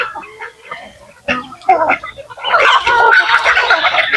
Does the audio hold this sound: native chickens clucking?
yes